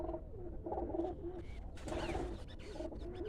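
Pigeons coo softly and repeatedly nearby, their low throaty calls overlapping in a gentle, continuous murmur.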